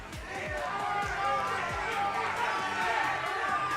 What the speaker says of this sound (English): Crowd's getting hot, Nick.